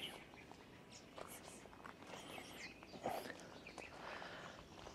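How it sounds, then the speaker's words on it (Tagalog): Birds calling outdoors along a roadside between Al Baha and Taif in Saudi Arabia, scattered chirps and short calls at moderate distance over faint background noise, with a brief louder call partway through. "Yung ganitong ingay ng mga ibon."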